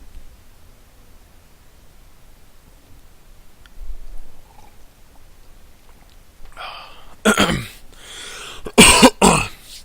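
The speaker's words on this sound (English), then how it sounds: "Got a little bit of a cough in my throat." After a quiet stretch, a person coughs loudly, two or three sharp hacking bursts close by near the end.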